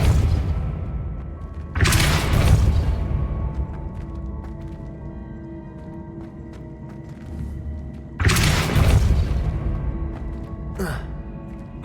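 Depulso spell blasts in Hogwarts Legacy, two loud broadband bursts about six seconds apart with fading tails, over a low steady game ambience with faint rumbling.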